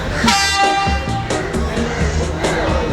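A Sri Lankan train rumbles close by with a loud horn blast near the start, and wheels and machinery keep up a steady clatter.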